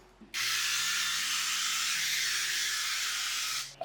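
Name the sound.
spraying olive oil into donut tray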